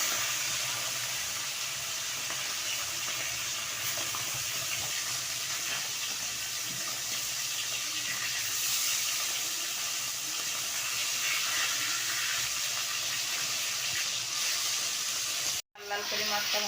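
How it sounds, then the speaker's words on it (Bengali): Tilapia pieces frying in hot oil for a Bengali fish kalia, giving a steady, loud hissing sizzle that runs nearly unbroken, with one brief drop-out near the end. "আমার তেলটা গরম হয়ে গেছে, এবার আমি মাছগুলো ভেজে নেব"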